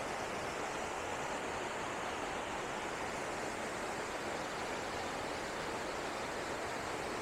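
Waterfall at Old Man's Cave, a lower falls: a steady, broad rush of falling water, constant and fairly close, with no pauses or voices over the full stretch.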